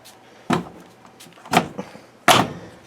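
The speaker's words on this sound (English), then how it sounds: "Close the door." Three firm thuds of an LG WM0642HW front-loading washing machine door being shut, spaced about a second apart, close and loud with nothing else heard between them.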